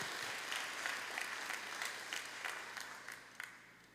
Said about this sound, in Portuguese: Vamos aplaudir a Cristo, aleluia.